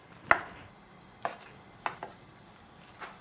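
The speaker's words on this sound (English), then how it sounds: "I'm going to cut into bite-sized pieces." Canned whelks being sliced into bite-sized pieces with a knife on a board: four separate sharp chops spaced unevenly, close and quiet, with silence between them.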